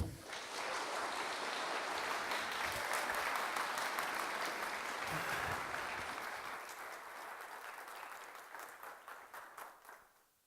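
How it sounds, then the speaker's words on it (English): A conference audience breaks into a sustained round of applause for a speaker, dense clapping from a large crowd that holds steady for several seconds before thinning to scattered claps and fading out. "So give a really big round of applause for Marian Marinov."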